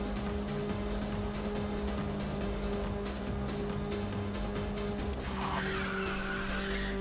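Tyres skid and squeal continuously as a car drifts in Ridge Racer 6, with a loud engine drone underneath throughout and a higher squeal rising near the end.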